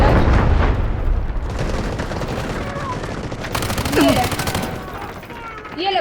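Bursts of rapid gunfire and booms from the video game Delta Force rattle through the scene, loud and dense, with a player talking excitedly over the shooting.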